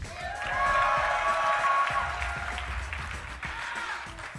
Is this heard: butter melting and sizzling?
no